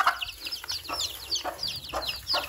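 Broody hen giving a run of about five rhythmic clucks to summon her chicks, near and clear over a soft farmyard background.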